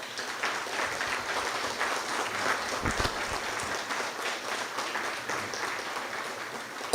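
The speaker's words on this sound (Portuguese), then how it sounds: "Quero pedir a todos vocês uma salva de palmas para ela." Audience applause at a church testimony gathering, a continuous moderate clapping from a crowd with a few sharper claps standing out, sustained at even loudness without voices over it.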